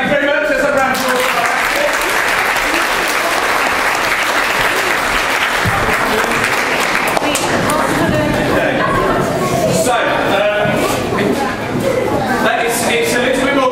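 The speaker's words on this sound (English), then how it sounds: "Let's have a round of applause." A live science show audience claps in sustained applause for about fourteen seconds, dense and even throughout, with some chatter mixed in.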